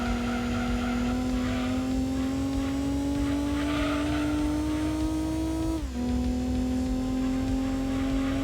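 Racing-car engine from the PlayStation game Gran Turismo 2, a steady buzzy inline-four drone climbing slowly in pitch through a gear, then dropping sharply on a shift before holding again, loud and continuous with no talk.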